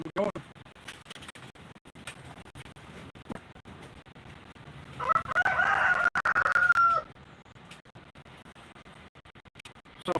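A rooster crows once from a short distance, a drawn-out crow lasting about two seconds in the middle of a quiet outdoor stretch with faint background noise.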